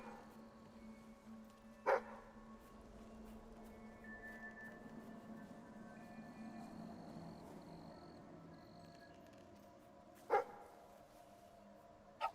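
In the video game Fable 3, a dog gives two sharp, isolated barks about eight seconds apart over a quiet ambient background, with a faint third yip at the very end.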